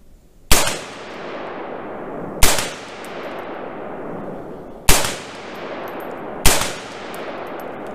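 A Palmetto State Armory KS-47 gen 2 rifle in 7.62x39 on an AR-15 platform fires four single shots at a range target, each sharp loud crack followed by a short echoing decay, spaced about two seconds apart.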